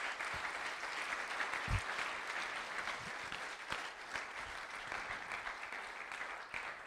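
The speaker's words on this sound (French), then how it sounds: "Est-ce qu'on peut applaudir tous ces techniciens qui sont là depuis 7h15 ?" A crowd applauds steadily, a dense wash of clapping hands that holds for several seconds without letting up.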